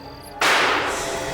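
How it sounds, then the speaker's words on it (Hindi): A single gunshot cracks suddenly at night near a village in a Hindi crime drama. The loud burst is followed by a long, noisy echo that fades slowly. "गोली चल गई?"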